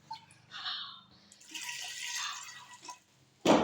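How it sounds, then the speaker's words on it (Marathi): Water poured from a vessel into a pressure cooker holding potatoes, splashing and gurgling in a few short bursts, close and fairly quiet, ending with a louder clatter. "आपण आता ह्याच्यामध्ये पाणी टाकून घेऊयात"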